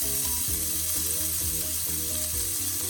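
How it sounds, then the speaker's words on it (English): Peas sizzle loudly in a hot pan for Chinese fried rice, a dense continuous frying hiss close up, with faint rhythmic stirring knocks and no talking. "That sizzle."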